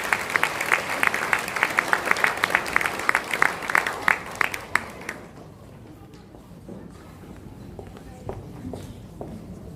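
A church congregation applauds during an ordination ceremony with steady, fairly loud clapping for about five seconds, then it thins out to scattered faint claps and quiet room noise.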